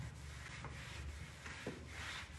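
A cloth rubs stain and glaze over silk finish paint in soft, repeated scrubbing strokes, faint and close, with no voices.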